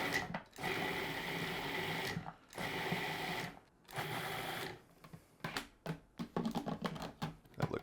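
Food processor pulsing chopped vegetables for meatloaf, three long whirring bursts separated by short pauses, then a string of quicker, choppier pulses, all close and loud.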